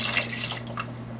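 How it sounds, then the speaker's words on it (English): Water poured into a pot on the stove while cooking red palm oil potato greens, a soft continuous splashing trickle with a steady low hum underneath, close and moderately loud. "I'm going to add some water"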